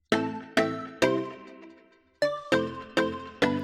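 Bright plucked synth notes layered with string-like pizzicato and a breathy pan flute tone, playing a bouncy tropical house rhythmic phrase with quick decays.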